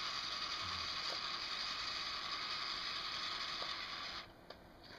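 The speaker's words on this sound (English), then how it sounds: "so we're going to command 203 degrees, and we'll move the rotor to" A Yaesu antenna rotor run by a homebrew controller turns steadily with a continuous mechanical whir and faint ratcheting for about four seconds, then stops, leaving a few small clicks.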